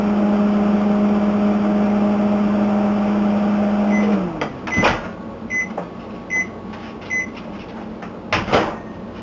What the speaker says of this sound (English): get the Huitlacoche in the microwave as well